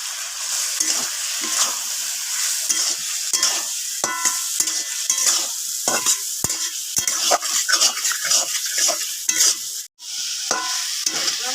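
Spiced potatoes are stir-fried in a pan, with a continuous close sizzle under repeated scraping and clinking strokes of a spoon against the pan throughout, broken briefly by a short pause.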